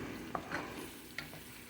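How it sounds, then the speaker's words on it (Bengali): Greens stir-fried in a pan, soft sizzling with a few quick scrapes of a spatula, close and fairly quiet, no talking. "তো আমি শাকটা একটু ভাজি করি"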